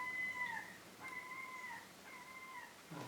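Outdoor gull calls, a series of three drawn-out, wavering cries that drop in pitch at the end, moderately distant against a steady background hiss, with a soft thud at the close.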